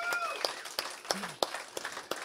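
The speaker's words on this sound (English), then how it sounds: "Big round of applause." A few scattered claps from a small audience at a guitar clinic in a music store, sharp and separate, with voices and faint tones between them.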